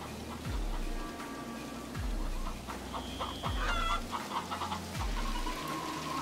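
Chickens in a video game cluck and squawk in quick repeated bursts over a looping game soundtrack with a rhythmic low thump roughly every second and a half, close and fairly loud.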